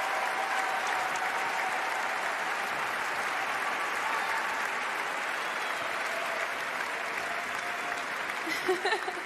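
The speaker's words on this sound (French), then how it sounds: "Vous pouvez l'applaudir, la première dans l'histoire du Ballon d'Or" Ceremony audience at the Ballon d'Or awards applauding Ada Hegerberg, a thick, even wall of clapping from a large hall crowd, sustained and steady throughout, with a few louder bumps near the end.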